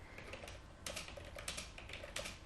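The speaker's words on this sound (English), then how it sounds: "So I start typing here." Quiet keystrokes on a computer keyboard come in short uneven bursts of clicks, close and faint, with no voices over them.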